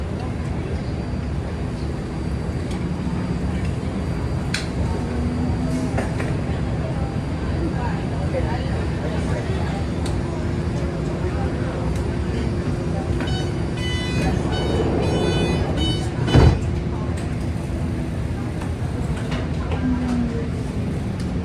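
A BART subway train rumbles steadily as it pulls away from Fruitvale station, with continuous low roar, rising whine and a brief clunk, voices faintly mixed in.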